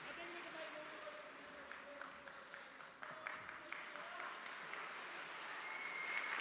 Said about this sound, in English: Let's give them a collective round of congratulatory applause